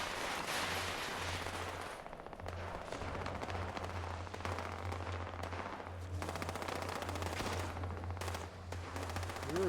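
Rapid bursts of automatic gunfire from a video game, dense and loud, in several runs separated by short gaps over a steady low hum.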